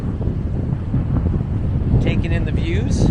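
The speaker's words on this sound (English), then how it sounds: "on this windy and soon-to-be stormy day" Gale-force wind buffeting the microphone on the coast of Jersey near St. Helier, a loud, continuous roar with gusting rumble throughout, with brief higher whistling tones late on.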